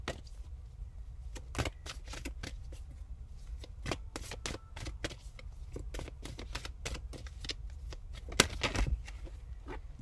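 Tarot cards being shuffled and drawn for a reading, a soft steady stream of papery riffles and flicks with occasional sharper snaps, close and quiet with no voices.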